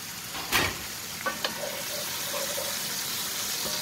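Garlic, chili peppers and sage sautéing in oil in a pan, a soft steady sizzle with a couple of sharp clinks of a utensil near the start.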